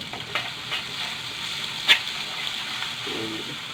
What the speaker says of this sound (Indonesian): Kita goreng bumbunya. Oke. Kita tumis sampai harum. Kita masukin terasinya tadi.